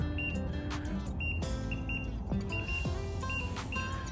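A carp-style fishing bite alarm being tested beside a reservoir while pike fishing, giving a string of short, clear electronic beeps at irregular intervals over outdoor background noise.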